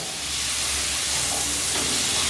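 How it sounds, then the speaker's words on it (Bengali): Potatoes frying in oil in a pan on a low flame, a steady, even sizzling hiss that holds without a break throughout. "3 থেকে 4 মিনিট একটু নাড়াচাড়া করে আমি আলুগুলো একটু ভেজে নিচ্ছি।"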